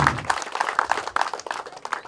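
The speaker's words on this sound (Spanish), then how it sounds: "ellos merecen un fuerte aplauso" Applause at the opening of a new health post in a rural Peruvian village, a modest group clapping in uneven bursts, fairly close and moderately loud for about two seconds.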